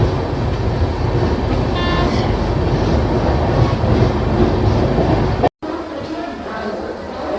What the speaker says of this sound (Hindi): छत्तीसगढ़ एक्सप्रेस का अराइविंग का टाइम हुआ हैगा।